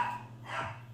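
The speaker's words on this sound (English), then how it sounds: "Sorry about the dogs." Dogs in a home bark briefly, a short, fairly muted outburst with a higher yip partway through.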